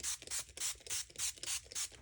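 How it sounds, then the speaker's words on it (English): A handheld bottle sprays water onto stone paper in six quick, evenly spaced hissing spritzes, close and fairly soft, with nothing else heard. "first I'm going to spray water onto the stone paper."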